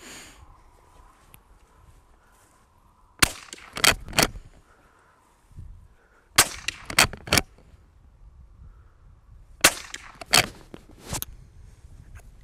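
A Chiappa LA322 western lever-action rifle fires outdoors in sharp, loud cracks, grouped into three volleys of three or four shots with brief quiet gaps between them and faint low background noise.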